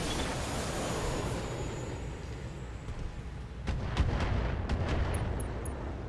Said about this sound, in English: let's hit that Hatchet Man with some mortar fire